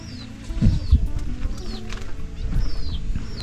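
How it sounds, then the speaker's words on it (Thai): Scattered low clucks from chickens outdoors at a homestay in Na Lao Mai village, Chiang Dao, Thailand, fairly soft, mixed with distant bird chirps and general yard ambience. "ไก่เยอะมาก"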